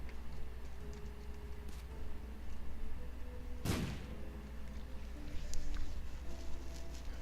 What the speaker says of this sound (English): I'm going to blow through a lot of bombs